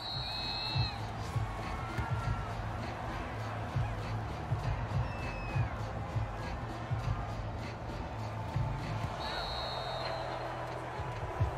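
Dense stadium crowd roar in the football video game Madden 23 with continuous babble and occasional cheers, steady and fairly loud throughout, with faint whistle-like tones now and then.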